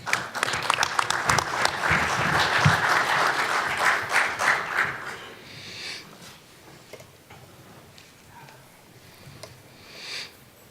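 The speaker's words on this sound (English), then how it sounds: "if we can give a big round of applause to our panel" A workshop audience applauds a panel at a corporate digital enterprise readiness event, loud dense clapping for about five seconds, then tapering to scattered claps and quieter room noise.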